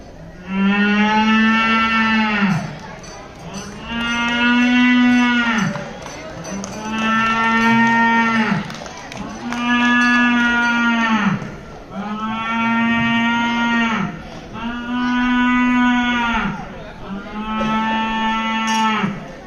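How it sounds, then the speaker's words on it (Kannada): A cow moos repeatedly, seven long, loud, drawn-out calls in a steady rhythm with short pauses between, close by and with no talking. "ಸಂಜೆ ನಮ್ಮನೆ ಹಸುಗೆ ಹಸುವಾಗಿ ಈ ತರ ಕೂಗ್ತಾ ಇತ್ತು."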